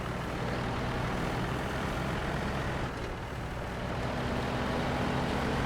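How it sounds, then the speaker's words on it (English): A heavy truck engine drones steadily in SnowRunner while hauling a load of concrete up a hill on the Michigan map, a continuous loud rumble with no break and no talk. "this truck managed to hold the concrete up the hill"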